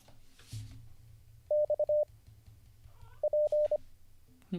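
The Morse code letter P is sent twice as a clean, steady beeping tone. Each group is a quick run of short and long beeps, with quiet background noise between the two groups.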